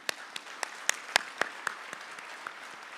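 Scattered hand claps from a graduation ceremony audience, a sparse run of distinct claps at an uneven pace, fairly faint and distant, with no voices heard.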